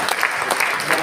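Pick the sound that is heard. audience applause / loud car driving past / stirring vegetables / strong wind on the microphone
audience applause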